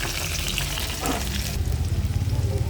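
Ginger and onion hit hot cooking oil in a pan, giving a steady loud sizzle that shifts partway through as more goes in, with a bubbling, crackling texture and no talk.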